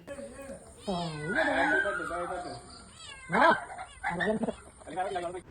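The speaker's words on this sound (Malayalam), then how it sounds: "ജാനമോളുടെ കൂട്ടുകാരാണ് പൂച്ചയും നമ്മുടെ കിച്ചുമൊക്കെ." A cat meows repeatedly in long, wavering, insistent cries, several calls in a row, loud and close.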